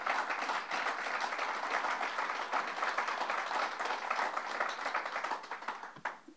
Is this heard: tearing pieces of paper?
no